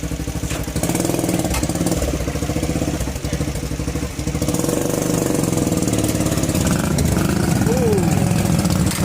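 A motor engine still running after a flood, a steady loud close idle chugging throughout with people talking over it.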